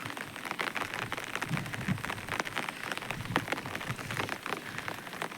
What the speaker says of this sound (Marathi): आणि पाऊस बारीक बारीक लागता